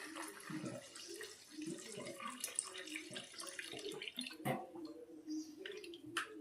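Tap water runs steadily while cracked wheat (daliya) is rinsed in a kitchen, a continuous close splashing wash with brief louder gushes as the grain is stirred.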